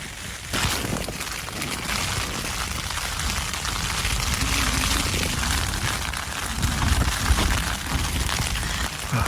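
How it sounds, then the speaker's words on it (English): Heavy rain pelts down outdoors on a wet morning, a close, crackling patter of drops on a nearby surface that runs continuously and loudly, swelling slightly toward the end. "It's raining."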